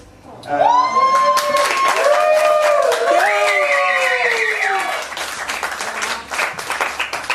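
A live spoken-word crowd breaks into cheering, whooping and sustained applause at a small venue. Loud voices wail and call out over dense clapping that keeps going to the end.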